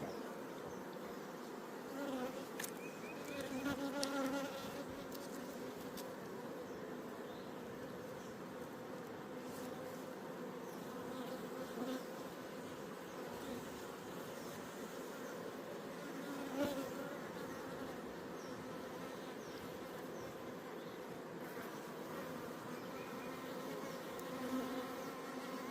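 Honey bees buzz steadily around a small honey box they are robbing, a dense continuous drone of many insects close by, with no talking.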